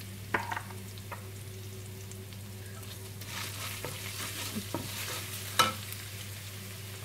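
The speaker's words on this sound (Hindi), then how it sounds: "इसको मैं फ्राई करते हुए तकरीबन 2 मिनट हो चुके हैं।" Spring roll filling stir-frying in a pan, a continuous soft sizzle with occasional sharp scrapes and taps of a spatula, moderately close and without talk.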